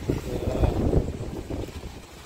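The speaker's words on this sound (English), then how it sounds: "And it's very windy." Wind gusts across the microphone at a beach on a windy evening, low rumbling buffets that swell and ease over a couple of seconds, with no speech.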